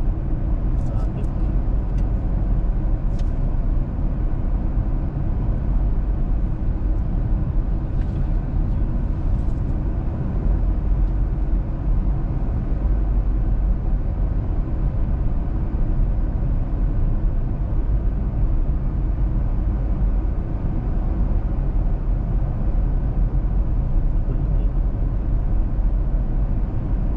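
Steady low road traffic rumble heard from inside a Kia Pegas 2025 stuck in slow city traffic, a continuous muffled drone with occasional faint higher sounds and people talking in the cabin throughout.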